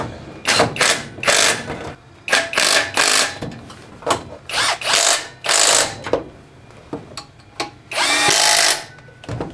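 A tool tightens the supercharger belt tensioner bolt on a Vortech-supercharged V8 S10 in a driveway: repeated loud, close bursts of rapid mechanical whirring and clicking, with brief pauses between runs.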